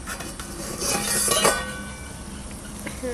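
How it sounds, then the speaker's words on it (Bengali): A metal lid clinks and scrapes as it is lifted off a cooking pot of Lote fish curry, a brief rattle near at hand with soft sizzling beneath. "ঢাকনাটা তুলি"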